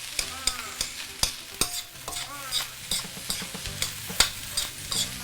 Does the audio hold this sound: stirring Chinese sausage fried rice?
yes